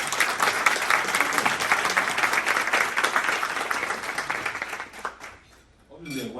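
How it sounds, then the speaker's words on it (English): An audience applauds two student speakers at a HACU visit to HCCC, a dense, steady wash of many hands clapping that fades out near the end as a voice begins. "Big applause for them."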